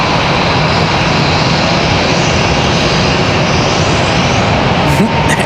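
An airplane on final approach at Raleigh Durham airport roars loud and continuous, a broad steady engine rumble throughout, with a voice apparently talking beneath it.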